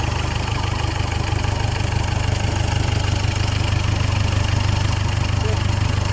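A Ford Everest engine, after sitting unused for over a year, idles steadily at close range with a constant low rumble and no clear start or change across the whole stretch.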